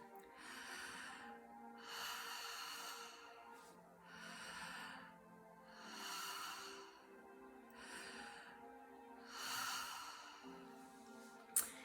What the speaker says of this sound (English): So I'm going to demonstrate with 3 breaths, and you can join in if you like. So it's through an open mouth as well